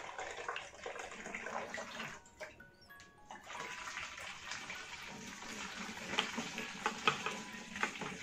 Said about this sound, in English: I'm just pouring water.